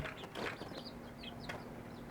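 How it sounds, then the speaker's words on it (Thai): Young wild junglefowl chicks, about three months old, a group of nine, give soft scattered chirps and peeps over a steady low background hum, with a few faint rustles among them. "ไก่ป่าเก้าตัว"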